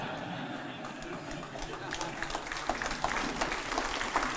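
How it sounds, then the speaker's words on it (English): Scattered applause from a Republican Lincoln Day dinner audience, thin at first and building into denser clapping over a few seconds, heard at a distance in a large room. "I think that's a scattering of applause for those who think I'm not serious"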